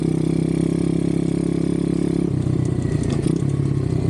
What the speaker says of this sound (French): Elle fait pas trop de bruit avec l'échappement, elle fait un bruit sympa et pas trop non plus.